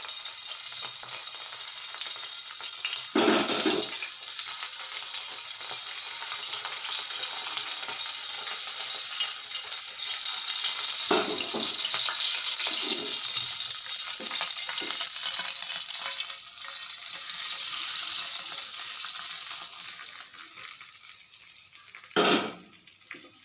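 Green chillies crackle and sizzle in hot oil in a pan for a dal tadka, a steady broadband frying hiss that runs throughout, with a few louder spits and stirring clatters near and no talk.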